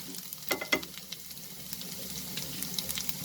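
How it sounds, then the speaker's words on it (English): Chopped garlic sautés in oil in a pan, a quiet, continuous sizzle with a few soft stirring knocks near the start. "chopped garlic. Saute the garlic"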